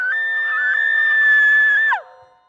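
A woman's sustained, piercing scream, produced as a radio drama sound effect for a college production of a story about a screaming woman, holds steady for about two seconds and then drops off in a falling wail, with no talk.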